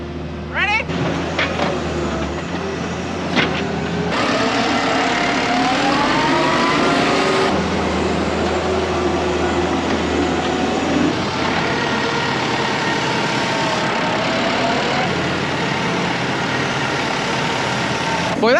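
A skid steer loader stuck in mud churns its engine loudly and continuously for the whole stretch, the drone rising and falling as it strains, with voices talking over it.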